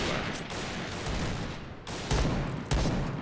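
Barrett rifle shots in the video game Point Blank, a couple of sharp heavy reports over a rumbling backdrop of distant gunfire, loud and close.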